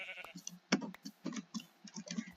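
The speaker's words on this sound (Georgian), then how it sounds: "ესეც კიდე ერთი ცხვარი" A sheep in the Minecraft video game bleats in short, close, repeated calls, mixed with light clicking and ticking sounds.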